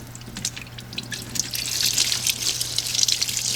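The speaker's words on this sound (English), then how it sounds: "And all that water is peeing out of the block." Water draining out of a ski boat's engine block through an open solid brass petcock, a steady close trickle and splatter that grows a little louder as it runs, with no talk over it.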